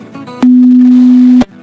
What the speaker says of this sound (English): This is the sound of 250 Hz.